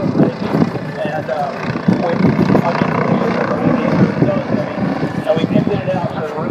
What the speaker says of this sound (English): why is this helicopter suitable for aerobatics, Chuck?